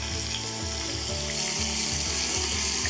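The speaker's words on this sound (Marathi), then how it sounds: "यामध्ये घालूयात कढीपत्ता, सुकी लाल मिरची, हिरवी मिरची, बारीक चिरलेला कांदा." Curry leaves, dried red chillies, green chillies and finely chopped onion fry in oil, a loud continuous sizzle running without pause under a faint background of tonal music.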